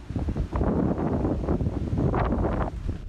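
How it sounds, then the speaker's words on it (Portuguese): Strong storm winds roar in gusts across Dourados, buffeting the microphone with a continuous, heavy rumble that swells and dips but never stops. "a ventania fez subir uma nuvem de poeira"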